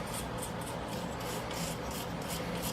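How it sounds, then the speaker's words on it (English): Beeswax rubbed by hand onto hand-forged hooks made from concrete nails, a steady continuous rasping friction that stays close and even throughout, with no talking. "We're going to rub them down with our beeswax"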